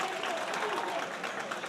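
Pro wrestling crowd at a live independent event clapping in a steady sustained rally, dense applause filling the room with a commentator talking over it.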